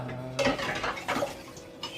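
Dishes and cutlery clatter during washing up in a home kitchen, with a few sharp clinks and knocks over running water, moderately near and unaccompanied by talk.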